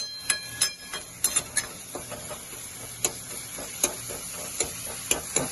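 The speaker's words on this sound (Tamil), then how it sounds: "இப்போ நல்லா அதை வதக்கணும்" Tomato and onion being sautéed with salt and turmeric for a traditional brinjal gojju, giving a soft, steady sizzle broken by sharp, irregular clicks and scrapes of a spoon stirring against the pan.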